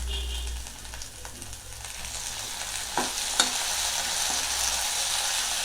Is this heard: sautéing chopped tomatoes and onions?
yes